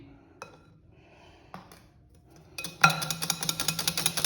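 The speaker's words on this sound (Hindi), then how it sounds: "अब घी डाल के इसको जो है ना वो बीट करना है" Batter for cake rusk being beaten with ghee in a bowl, a few soft knocks early, then a rapid steady run of clattering whisk or spoon strokes against the bowl, close and fairly loud.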